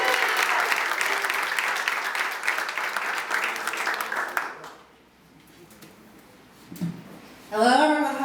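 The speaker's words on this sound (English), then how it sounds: "So please, give a warm round of applause to Ash Newland" An audience at a comedy show applauds a comedian with dense, steady clapping that lasts about four seconds and then fades to quiet, before a brief murmur and the start of talk.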